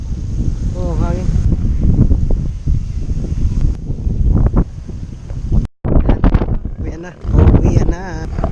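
Strong wind roars at a microphone on the high Daang Kalikasan mountain road during a motorcycle ride, a loud close buffeting that rises and falls as people talk, cut by a sudden brief silence.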